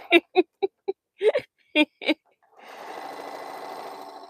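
A sewing machine stitches crumb quilt pieces together, a soft, steady mechanical whir that starts after several short vocal sounds from a nearby person.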